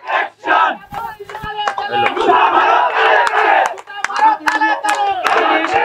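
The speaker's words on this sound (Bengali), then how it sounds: "আমরা মিছিলকে করতালির মাধ্যমে স্বাগত জানাই।" A crowd welcoming an anti-drug procession shouts and chants in loud rhythmic bursts, with faint clapping mixed in close by.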